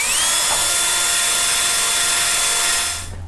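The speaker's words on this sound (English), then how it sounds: "we're gonna take the wire brush again and we're gonna clean up right where we're gonna put our supports for our jacking points" A power-driven wire brush scours the welding points on a 1967–69 Camaro subframe, a loud, continuous high whining grind that holds steady and then winds down at the end.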